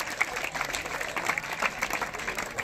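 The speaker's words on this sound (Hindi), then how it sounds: "जोरदार तालियों से स्वागत हो जाए" An audience at a school baseball competition event applauds to welcome a guest, a short, steady burst of moderately distant clapping.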